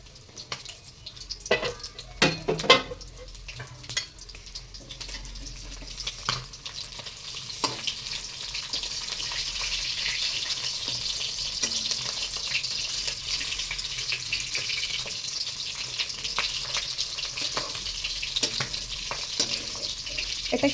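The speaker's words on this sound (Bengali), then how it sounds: "এর ভিতরে মাছ ভাজা চলছে" Fish frying in hot oil in a pan sizzles with a steady broadband hiss that swells and holds. A few sharp clatters and splashes come early on.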